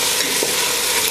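A pot of sausage, sweet pepper, onion and potato stew is stirred with a spoon, giving a short, close scrape over a steady sizzle.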